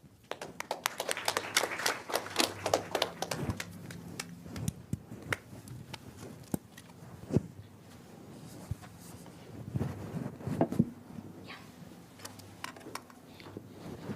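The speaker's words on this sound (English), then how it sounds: "Give a huge round of applause, sir." Audience applause at a speaker's talk at Google's Gurgaon office: a dense burst of clapping for the first few seconds, then scattered claps and light handling noise.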